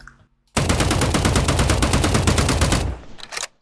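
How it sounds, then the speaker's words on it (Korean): A Tommy gun in the Roblox game Rivals fires one loud, rapid burst lasting about two and a half seconds, followed by a short mechanical clatter as the burst ends. "자 먼저 쏘는 소리"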